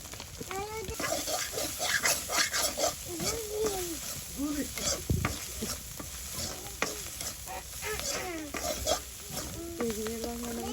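Small icha shrimp fry and sizzle in hot oil with salt and turmeric as a homestyle village dish cooks, with steady crackling broken by stirring scrapes and a voice talking over it now and then.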